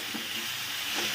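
Thinly sliced teasel gourd and potato frying in a pan, a soft, continuous sizzle and hiss at low level with faint stirring, no voices.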